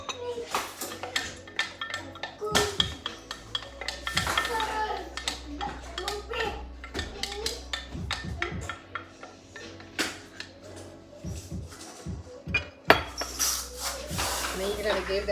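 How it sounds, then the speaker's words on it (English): A spoon scraping and clinking against a pot while Cajun chicken pasta is stirred, with frequent close metallic clatter and knocks continuing throughout alongside low kitchen hum. "And then you're going to give that a stir"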